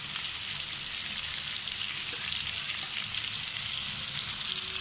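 Spice paste sizzles on frying hilsa fish in a pan, a steady bright crackling fry that holds evenly throughout, close up, with no voices.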